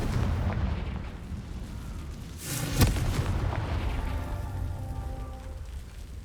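A Confringo blasting spell explodes in Hogwarts Legacy, one sharp blast rising out of a constant rumbling, battle-filled game soundscape, then fading back into the steady background noise.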